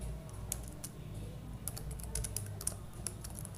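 A computer keyboard is typed on in quick, irregular bursts of close, light clicks, with steady room hum behind and no talking.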